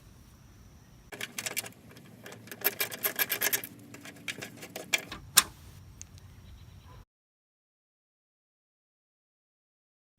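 12 mm bolts come off an Infiniti G35 fender with bursts of rapid ratcheting clicks and scraping, close and fairly quiet, stopping before a stretch of silence.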